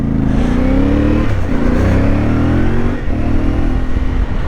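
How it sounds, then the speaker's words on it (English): A CF Moto 450 MT adventure motorcycle's engine revs up on a test ride, a loud, close, continuous drone whose pitch climbs steadily and then rises again through the gears, with nobody speaking. "I'm out doing a quick test ride on the CF Moto."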